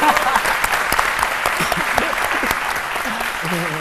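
Studio or audience applause for a reggae singer from Côte d'Ivoire during a midday television culture segment, dense clapping with sharp individual claps throughout, voices faintly audible beneath.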